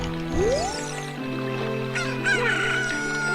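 A cucco chicken crows in Zelda: Ocarina of Time, a loud rising cock-a-doodle-doo call over steady game background music, followed by a few shorter clucking squawks.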